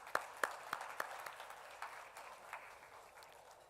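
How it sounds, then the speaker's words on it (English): An audience applauds at a talk on helping animals: a few sharp, separate claps at first, then a softer, steady wash of clapping that slowly fades, fairly faint and distant. "So a big hand of applause to all of us."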